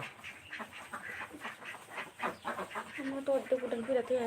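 Ducks quack in a quick, repeated series near the end, following a stretch of someone talking about laying ducks, with scattered background bird noise.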